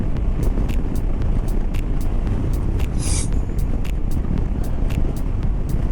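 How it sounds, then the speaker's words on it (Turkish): A Honda scooter engine, from a test ride comparing the ADV 350, Forza 250 and PCX 125, drones loud and steady under throttle with heavy wind rush, with no speech. "Gaza yüklendiği zaman giden bir motor arkadaşlar."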